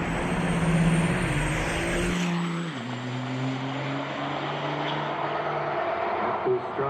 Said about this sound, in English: I'm going to take you over to the drag racing that's going on. ET bracket racing.